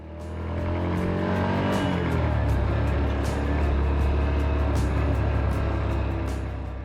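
A car driving on a Sunday-morning road near Kampala after leaving the dual carriageway from Kajansi, heard from inside as a steady loud engine and road rumble that swells as it picks up speed, with no talking.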